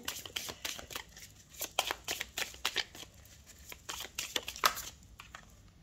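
Tarot cards being shuffled and drawn, a rapid series of crisp riffling snaps and slaps at close range with short pauses between bursts, no voices.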